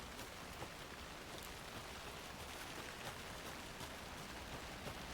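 Steady rain falls in Alan Wake II, a soft, even hiss of drops with faint scattered patters, quiet and unbroken throughout with no voices.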